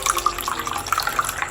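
Water running from a tap into a drinking water bottle, a steady close splashing and trickling stream with no voices.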